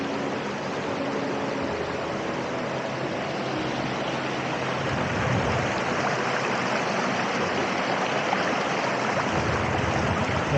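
A mountain stream flows on a hiking trail, giving a steady, full rushing of water that stays loud and even with no pauses. Nobody speaks.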